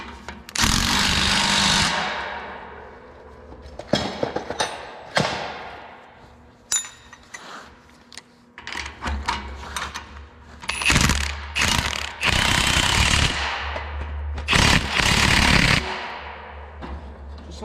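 A ratchet wrench tightening a bolt on a field cultivator in a farm repair, with bursts of loud clicking ratcheting and metallic clanks that stop and start across the stretch, close by.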